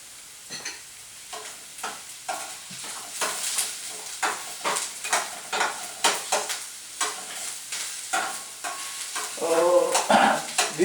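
Garlic sizzling in a hot pan as it is sautéed, with repeated scraping stir strokes in a steady rhythm close by; the frying hiss stays loud throughout, and no one speaks.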